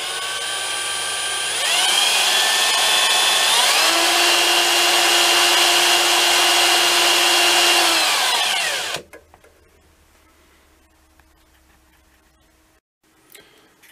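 A power drill spinning the speedometer of a 1975 Dodge W100 instrument cluster whirs steadily at high speed, its whine rising and holding for several seconds before it cuts off, leaving faint quiet clicks.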